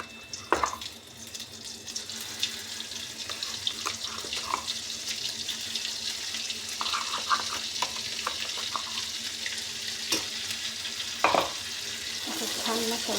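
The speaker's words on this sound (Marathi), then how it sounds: "छान मसाला परतून घ्यायचा." Masala sizzling and being stirred in hot oil in a pan, a steady close frying hiss with intermittent scraping and stirring clatters, no voices.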